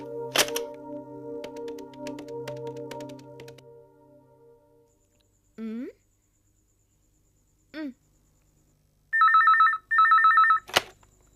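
A telephone's ringback tone sounds twice in steady pulsed bursts near the end, after earlier keypad tones and clicks of a number being dialed.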